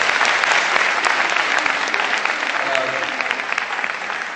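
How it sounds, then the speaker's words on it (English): A symposium audience gives a sustained round of applause for a speaker, a dense, loud, steady clatter of many hands that holds level throughout. "let's give her a big round of applause"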